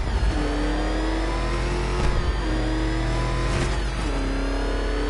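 Penguin's truck engine in the Batman: Arkham Knight video game drones loud and steady with rising and falling revs, a continuous mid-pitched roar that shifts gear a few times without pause.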